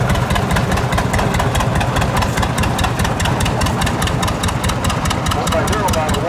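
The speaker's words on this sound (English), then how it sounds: "Next we got a John Deere, a Model T. Built 1951." A 1951 John Deere Model T tractor engine runs steadily at a threshing show, a loud, dense, continuous chugging with fast regular pulses and rumble throughout, with voices in the background.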